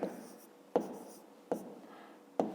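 A pen scratches out numbers by hand on paper while a fifth-grade division problem is worked, four quick bursts of writing at roughly regular intervals, each with a sharp start that fades, close and quiet with no talking.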